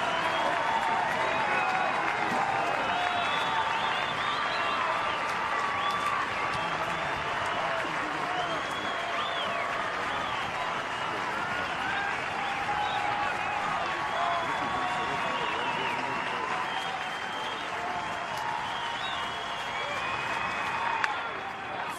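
Baseball stadium crowd at an NCAA tournament regional game, Texas Tech versus Louisville, applauding and cheering steadily for the full stretch as fans rise to their feet, a dense sustained roar with scattered whistles and whoops.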